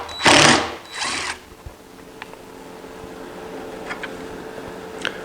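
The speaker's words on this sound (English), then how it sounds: "What I'm doing here is countersinking" A power drill countersinking holes for lag bolts during shop repairs gives two short loud bursts close by, then quiet workshop ambience with a few faint clicks and taps.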